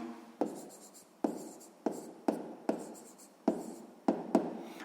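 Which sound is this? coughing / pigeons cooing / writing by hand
writing by hand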